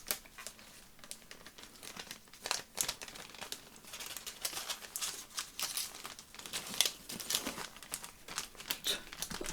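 Cellophane packaging of botanical stickers is handled up close, giving continuous soft crinkling and crackling with irregular sharper rustles throughout.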